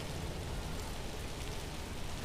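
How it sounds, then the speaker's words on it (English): Steady heavy rain during a severe storm in Denton County, Texas, a dense, even roar that continues without break from start to finish. "We've seen the rain go from a light rain to extremely heavy. Right now, it's pretty steady."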